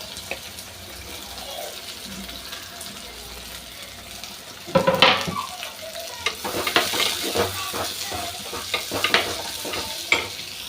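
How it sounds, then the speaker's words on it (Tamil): Five chopped onions sautéing in a pan for a meatless fish-style curry: a quiet stretch gives way to a louder run of stirring scrapes and a steady close sizzle. "வெங்காயம் நல்லா இந்த மாதிரி வதக்கிக்குங்க நல்லா வதங்கணும்"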